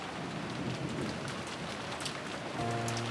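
Steady heavy rain with gusting wind lashes down in the visual novel Umineko When They Cry, a dense continuous hiss, and a low tonal hum from the game's music enters near the end.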